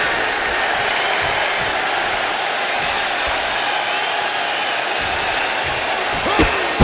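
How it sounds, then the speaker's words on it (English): Cheering crowd in a WWE 2K25 wrestling arena during a Raw match, a loud continuous roar filling the whole stretch with a brief sharp swell near the end. "This crowd is thunderous right now."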